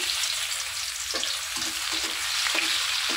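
Chopped onion fries in a pan ahead of the meat, giving a close, steady sizzling hiss with a few soft stirring clinks and scrapes, no talk.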